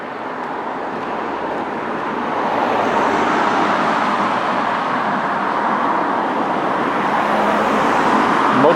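Steady road traffic on the main road through Stone Cross, once the original A27 South Coast Trunk Road, a continuous broad roar of passing cars that swells slightly after the first few seconds and holds fairly close and loud.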